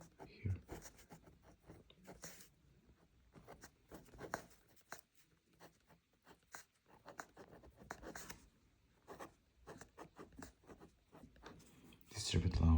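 A pen writes by hand on paper during discrete math homework on set theory, making close, scratchy strokes in irregular bursts, with soft talking underneath.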